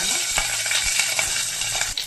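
Mustard seeds and curry leaves crackle and sizzle in hot oil in a pot, a loud steady fry broken by stirring scrapes and small pops, with no voices.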